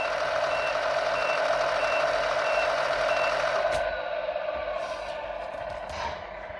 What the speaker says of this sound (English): in reverse, it rotates clockwise with the reverse beeper sounding